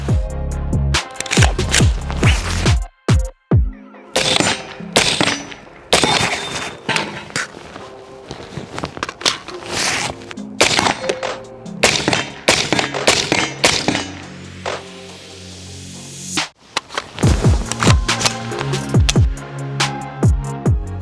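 Loud, sharp shots from an FN15 Patrol carbine fired in irregular bursts and single cracks, close by, with brief pauses between volleys.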